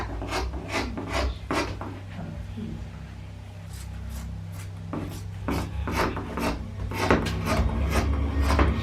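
Scissors cutting away extra quilt batting, with repeated close snipping and rasping strokes over a steady low hum from a television playing in another room.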